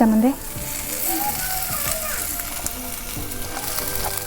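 Vegetables frying in a pan with red chili powder and turmeric, stirred now and then, giving a steady close sizzle with scraping and rattling, and faint voices in the background.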